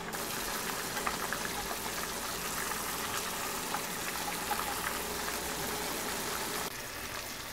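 Mango morabba simmers in sugar syrup with cardamom, cinnamon and bay leaf while being stirred, giving a close, continuous bubbling hiss that eases slightly near the end.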